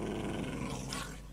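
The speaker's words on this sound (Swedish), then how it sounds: "massa med hundar, där hundarna skriker." Dogs or wolves in the Minecraft video game growl in a low, rough, continuous snarl that fades slightly toward the end, close and alone without talk.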